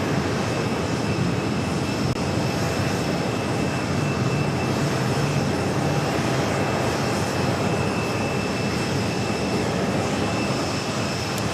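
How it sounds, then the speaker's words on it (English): A Cathay Pacific Boeing 777-300ER taxiing at JFK airport, a loud, steady engine roar and whine that holds constant throughout with no talking. "Cathay Pacific Flight 831 will be heading back to Hong Kong at a 777-300ER. Starting its taxi"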